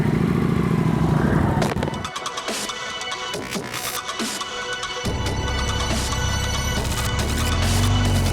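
BMW R1250 GS Adventure motorcycle on the move: a loud, continuous engine roar mixed with rushing wind, with the tone shifting abruptly around two and five seconds as the ride changes pace.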